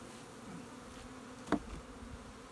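Honeybees buzz softly around an open breeder hive, a faint continuous hum with one brief, closer buzz as a bee passes near.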